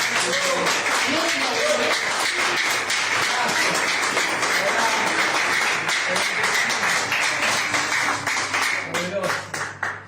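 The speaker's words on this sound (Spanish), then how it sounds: "Dale un aplauso." A church congregation claps together steadily for about ten seconds, a dense, sustained patter of many hands that fills the room and tapers slightly toward the end.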